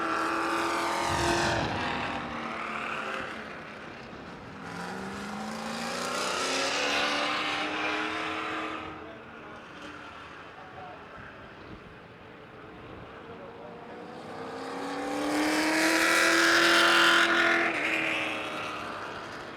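Race cars circle the track under caution at Virginia Motor Speedway, engines swelling as they pass near and fading away, in three distinct passes separated by quieter moments.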